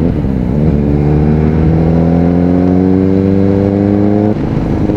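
A Kawasaki ZX-4RR motorcycle climbs a steep mountain road near Mt. Samat in Bataan, its engine note rising steadily in pitch under acceleration, loud and close throughout, then dropping briefly at a shift near the end.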